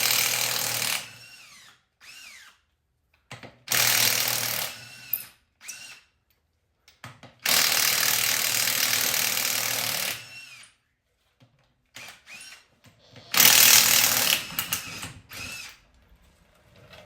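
Bursts of a power tool whir and stop as wheels with heavy run-flat inserts come off a wrecker truck in a garage, several loud multi-second runs separated by pauses and small clanks.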